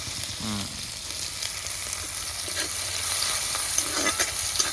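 Onion frying in hot oil after garlic, for a spinach dish, a steady close sizzle with occasional scraping and stirring clatter throughout.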